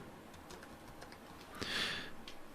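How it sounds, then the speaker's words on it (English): Quiet keystrokes on a computer keyboard, a few soft scattered taps followed by a brief burst of faster typing, close by and low in level. "as soon as I'm done typing"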